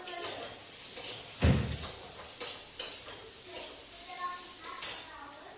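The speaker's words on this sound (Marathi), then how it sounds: "तर येथे कढईमध्ये मी 2 मोठे कांदे चिरून ते परतण्यासाठी टाकले होते." Chopped onions cook in oil in a kadhai, a steady sizzle running under scattered metallic scrapes and clinks of stirring, with one sharper clatter near the start.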